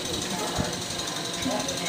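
A pottery piece trimmed on a spinning wheel in a studio, with a continuous, even whirring scrape holding steady for the whole moment while a voice speaks nearby.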